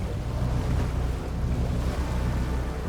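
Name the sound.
waves from barge wake rolling on the river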